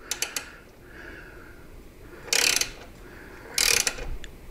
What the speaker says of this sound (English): So if you got a ratcheting wrench like this, it makes this super easy to do.